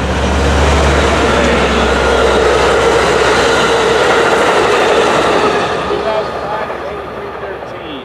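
An Amtrak train rumbles past at close range with a steady loud roar and rail clatter, then fades slightly at the end while a voice talks over it.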